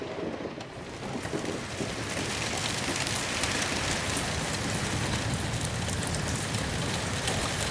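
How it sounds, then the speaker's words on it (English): Rain falls steadily and heavily on a camper van in a snowstorm, a dense, even hiss and patter that carries unbroken from start to finish with no voices. "it's just nice to be here, listening to that rain"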